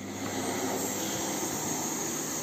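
Philips Marathon Ultimate FC9925 Powercyclone vacuum cleaner running on its low setting: a steady, loud whooshing motor drone with a high whine, continuous and close, no talk.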